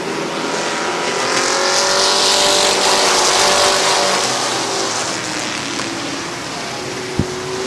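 Race cars roar around the track at Midvale Speedway in a steady, loud engine drone that swells and fades as the pack passes, with a short sharp knock near the end.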